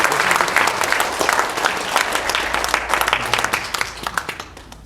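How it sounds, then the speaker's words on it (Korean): Applause from the assembly welcoming an elder at a presbytery general meeting held in a church hall, loud, sustained clapping from many hands that tapers slightly toward the end. "우리 박수로 환영합니다"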